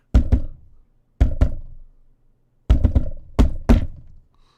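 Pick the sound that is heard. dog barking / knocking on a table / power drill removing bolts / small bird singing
knocking on a table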